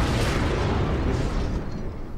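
A bomb exploding in Keep Talking and Nobody Explodes: a loud, close, deep rumbling boom that fills the whole moment and then slowly fades, with no voices.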